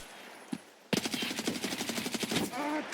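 Lever-action rifle shots ring out in the shooter game Escape from Tarkov, a burst of loud, rapid reports with echoing tails, preceded by a faint distant pop.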